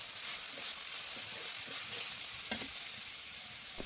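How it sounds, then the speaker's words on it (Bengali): Banana stem stir-fries in a pan with turmeric, salt and coriander powder, giving a steady soft sizzle broken by light scraping stirs, fairly quiet and with no voices. "এখন সবকিছু উপকরণ একসাথে করে খুব ভালোভাবে নাড়াচাড়া করে ভাজি ভাজি করে নেব।"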